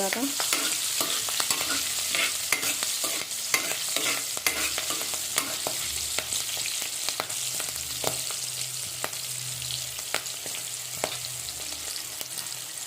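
Eggs for an egg masala curry fry in a pan, giving a continuous close sizzle with frequent stirring scrapes and sharp ticks of a spoon, no talking.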